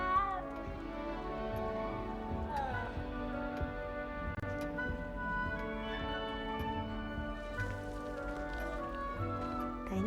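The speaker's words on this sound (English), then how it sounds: "You don't need to be frightened, little cat." A small cat meows softly in the Hogwarts Legacy game, heard within the Hufflepuff common room under a layered musical score with ticking details.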